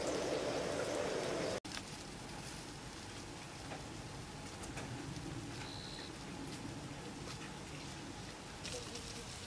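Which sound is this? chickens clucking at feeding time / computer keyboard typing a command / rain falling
rain falling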